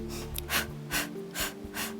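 Steady inhales and exhales during an inverted Pilates exercise, several long airy breaths in slow succession, close and fairly loud over a low hum, with no speech.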